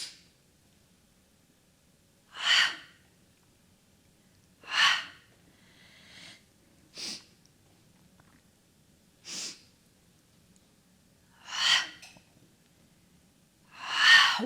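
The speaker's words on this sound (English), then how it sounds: "Sniff. Inhale more." Alternate-nostril breathing in a core-focused breath exercise, with sharp sniffing inhales and audible exhales repeating every two to three seconds, each breath clear and close in a quiet room with no talking.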